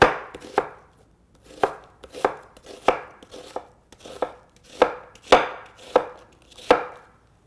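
Knife slicing through onion on a cutting board, a steady series of about a dozen crisp chops with short pauses between strokes, close and clear with no talking.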